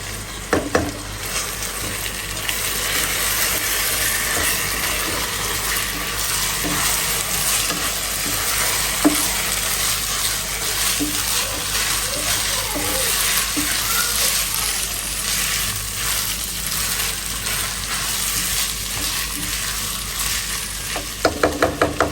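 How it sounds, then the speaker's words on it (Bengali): About half a kilogram of rice dry-fries in a pan with a steady, close hiss that runs on unbroken, while a few scraping clicks from stirring come through near the start and at the end. "চালটা হলো ভাজার শেষ এই হয়ে গেছে ভাজা হয়ে গেছে"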